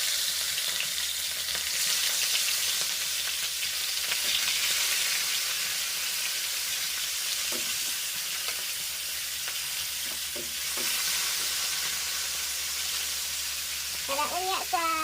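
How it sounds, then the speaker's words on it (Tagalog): Fish fry in a pan with a steady, loud sizzle and hiss that runs throughout. Brief speech comes in near the end. "Diyan magprito na ko ani guys."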